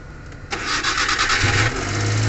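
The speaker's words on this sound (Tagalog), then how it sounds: "So ngayon mga kaalbularyo, i-try natin i-start." A Suzuki DA62V van's K6a engine cranks briefly and then catches, settling into a loud, steady running note close by.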